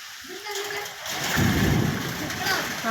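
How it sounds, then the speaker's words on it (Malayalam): Steady rain hissing and pattering nearby, with a low rumble swelling midway and a voice briefly audible at the start. "ഇപ്പോഴാ നമുക്ക് മഴ ഇവിടെ വന്നത്."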